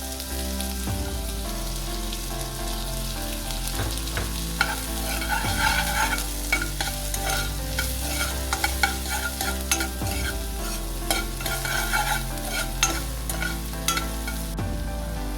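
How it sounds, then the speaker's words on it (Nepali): Chopped onion frying in a little oil in a pan as the base for an egg and soya chunk curry gravy, with a loud, close, continuous crackling sizzle and repeated scraping strokes of a spoon stirring through it. "त्यो बढी भएको तेल खनाएर अनि त्यस थोरै तेल राखेर त्यसैमा ग्रेभी बनाउन लाग्छौँ।"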